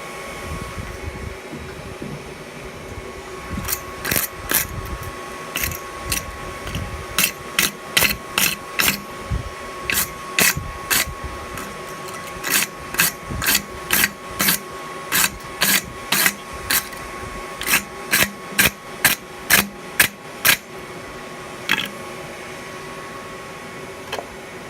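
A hammer strikes a touch mark stamp into hot steel from a railroad spike bottle opener on an anvil, giving dozens of sharp, ringing blows in an uneven rhythm with brief pauses between runs.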